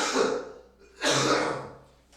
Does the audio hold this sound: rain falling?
no